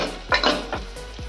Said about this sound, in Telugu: క్యాప్సికమ్ ముక్కలు వేసుకొని కలుపుకోవాలి.